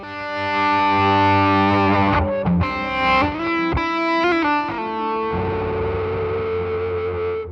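Thick, heavily overdriven electric guitar through two stacked overdrive pedals rings out loud and sustained, a few chords and notes with a saturated, rounded tone, no voices.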